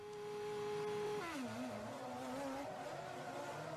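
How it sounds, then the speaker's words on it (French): A Formula 1 car engine drones loudly, its pitch sliding down as it decelerates and then holding a rough, steady roar, heard from a distance. "Écoute le moteur."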